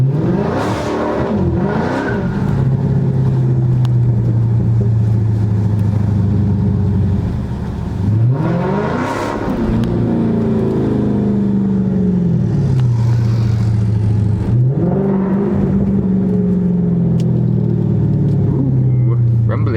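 A Dodge Charger Scat Pack accelerates hard through several gear changes behind a store parking lot, its loud, deep V8 rising in pitch with each pull and dropping at each shift.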